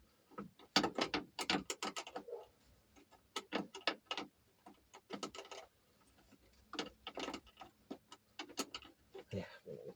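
A ratchet socket wrench snugging down a 10 mm nut on a Honda Acty during a battery conversion, heard as bursts of rapid close clicks in several separate runs with pauses between them.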